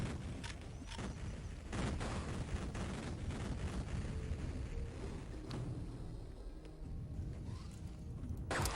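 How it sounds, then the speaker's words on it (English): Dense, continuous barrage of explosions and gunfire-like blasts in the first-person shooter Duke Nukem 3D, loud and sustained for several seconds without pause. "I have to wait for a little bit for all these explosions"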